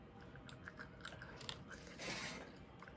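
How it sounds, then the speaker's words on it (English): Gum is chewed close to the microphone, faint wet clicks and crunchy bites coming in an irregular rhythm. "Chewing gum."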